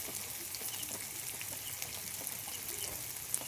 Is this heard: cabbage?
yes